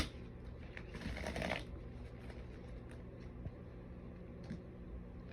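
Quick riffling and shuffling of tarot cards, a louder burst early on then softer handling, close and alone with no talking.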